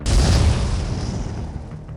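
A massive explosion booms heavy and loud at the start, then a long rumbling tail of blast and heat rolls on and slowly fades over two seconds.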